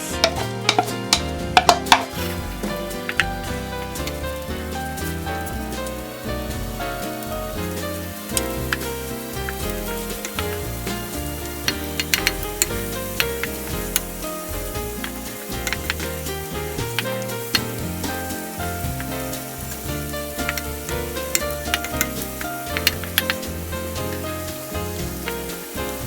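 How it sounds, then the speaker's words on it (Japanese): Onions sauté in melted butter in a pan, giving a continuous close crackling sizzle with frequent stirring clicks and taps throughout, no voices. "玉ねぎを炒めます"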